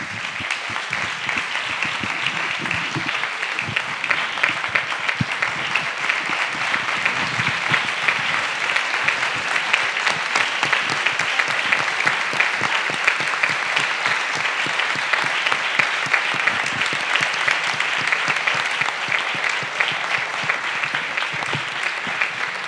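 Long, steady round of applause from an audience honouring a film crew, a dense crackle of many hands clapping, even in loudness for over twenty seconds with no talk.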